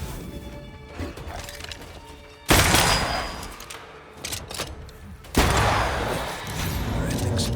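Gunfire from the video game Banishers: Ghosts of New Eden: two sudden loud booming blasts, each decaying into a rumbling tail, over a busy game soundtrack with voices underneath.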